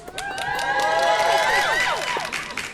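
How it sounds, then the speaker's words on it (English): A dense crowd cheers and shouts with overlapping high whoops and sliding yells, steady and loud across the span, with scattered claps mixed under the voices. "Let's clap it up"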